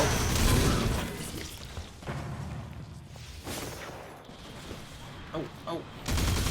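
Rapid SMG fire bursts in Destiny 2, loud and close, with several dense volleys and short pauses, plus a few pops near the end.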